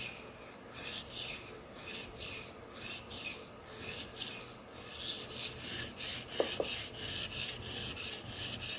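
Knife blade, a Slysz Bowie, being sharpened at 17 degrees on an Edge Pro sharpener, a close, quiet, regular rasping of repeated strokes along the stone, with a couple of faint small clicks.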